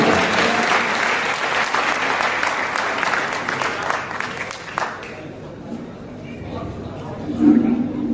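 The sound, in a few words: audience applause welcoming a poet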